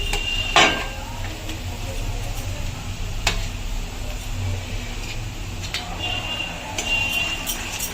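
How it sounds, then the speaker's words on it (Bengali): Ginger, garlic and chilli paste hits browned onions in a hot pan for a Bengali-style fish curry, giving a steady close sizzle with a few sharp spoon-on-metal clinks and scrapes. "এবার আমি আদা রসুন আর লঙ্কার পেস্ট আমি দিয়ে দেবো"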